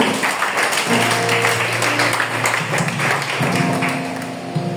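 A congregation in church claps steadily and densely in a sustained round of applause, with a sustained musical tone underneath.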